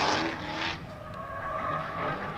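A pro drift race car runs on the Hampton Downs track in a D1NZ qualifying round, its engine droning at a sustained high pitch with tire squeal and a shifting whine, heard at moderate distance.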